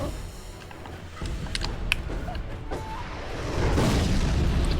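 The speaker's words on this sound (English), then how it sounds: "Alright, missile launcher. That's not good." Rocket blasts from a missile launcher in the Sekiro video game, heavy booming bursts and crackling impacts layered over a constant dense roar that grows louder toward the end.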